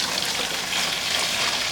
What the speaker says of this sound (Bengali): গরম জলগুলো ঢালে দিচ্ছি।